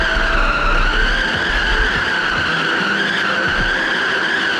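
Loud, continuous tire squeal from a car drifting and wheelspinning in BeamNG.drive, a steady high-pitched screech over low engine rumble that holds throughout.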